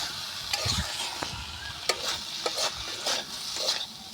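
Fried potato, pointed gourd and shrimp sautéed with spices in oil in a pan, a constant sizzle with repeated spatula scrapes and taps at irregular intervals, close and moderately loud, no talk.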